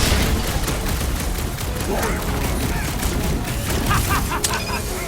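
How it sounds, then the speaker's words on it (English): Rapid gunfire and impacts crackle through a dense battle in Marvel's Guardians of the Galaxy on PS4, a loud continuous barrage with sharp bursts, layered under excited speech. "I'm trying to shoot here!"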